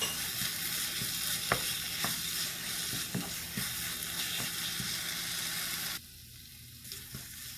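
Stirring a bread and banana mixture with grated coconut in a pan over medium flame, giving a steady close sizzle with a few soft scraping strokes, then quieting abruptly near the end.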